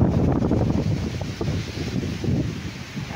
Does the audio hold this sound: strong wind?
yes